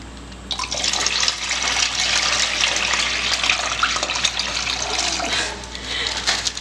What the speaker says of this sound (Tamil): இளநீர் தண்ணியை ஊற்றப்படும்